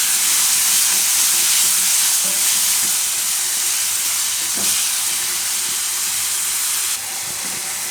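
Tomato curry seasoned with turmeric, coriander-cumin powder and salt cooks in a pan with a loud, continuous hissing sizzle and a few soft knocks of stirring, easing slightly quieter near the end.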